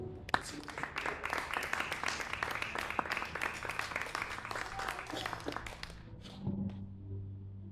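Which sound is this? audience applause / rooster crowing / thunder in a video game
audience applause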